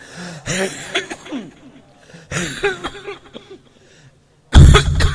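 A person coughing in short harsh bursts with pauses between during a religious sermon, followed by a sudden loud noisy burst at the end.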